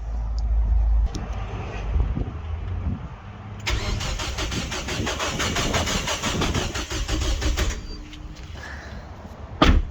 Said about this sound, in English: So the engine just turned over, we'll see if it does it again.